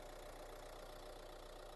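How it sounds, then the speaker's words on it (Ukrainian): A Renault Kangoo 2019 Maxi 1.5 dCi diesel engine idles steadily and evenly without a break, with a constant broadband rumble and no knocking, heard up close. "Двигун працює гарно, рівненько, тихенько, нічого не стукає"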